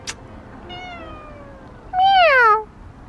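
A cat gives two meows up close, the first softer and drawn out, the second louder and sliding downward, with a quiet background around them.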